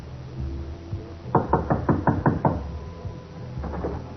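Seven rapid, evenly spaced knocks on a wooden door, close and crisp, a radio drama sound effect with a low hum beneath it and a couple of softer taps afterward.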